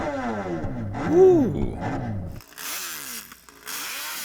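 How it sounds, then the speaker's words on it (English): A MotoGP racing motorcycle engine revs hard in rising and falling sweeps, loud and close, then drops to a quieter, rougher idle with smaller blips; a brief exclamation is heard. "let's have a listen to your MotoGP bike"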